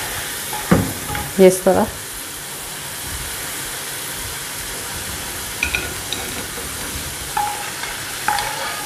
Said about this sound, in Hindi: ये हमारे जो फिंगर चिप्स हैं ये फ्राई हो चुके हैं। अब इसको हम निकालेंगे